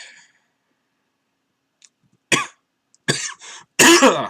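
Three harsh coughs ring out one after another in a quiet room, close and loud, the last one longest.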